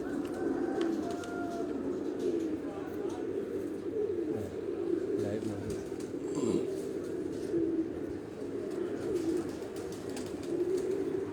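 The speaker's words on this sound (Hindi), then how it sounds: "ये जितने भी कबूतर मैं आपको बैठते दिखा रहा हूँ" Pigeons cooing on a rooftop in Rawat along Chak Beli Road, with soft, steady low coos repeating throughout, and an occasional brief flutter over a constant outdoor background.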